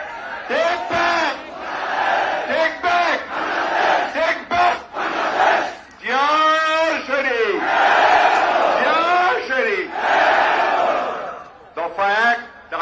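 A large outdoor crowd at a BNP political rally in Chattogram, Bangladesh, roars slogans in loud rhythmic call-and-response bursts, voices swelling and dropping in waves with short pauses between chants.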